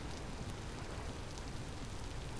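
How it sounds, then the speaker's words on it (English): Steady rain falling at night in the video game Vintage Story, a dense, even hiss of drops on surfaces that stays constant and fairly loud throughout, with no talk. "Well, I didn't clear up the rain."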